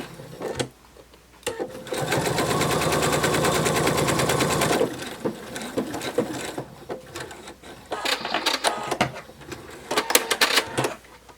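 A sewing machine stitches the seam of a narwhal plush toy in a sustained run of rapid mechanical chatter, followed by intermittent clicks and handling noises as pins are pulled out.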